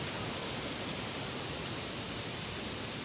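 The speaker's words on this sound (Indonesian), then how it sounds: "Namanya wisata air terjun Curug Ngumpet" The Curug Ngumpet waterfall near Pamijahan, Bogor, in West Java pours as a constant broadband hiss and roar, steady and unbroken from start to finish with no voices.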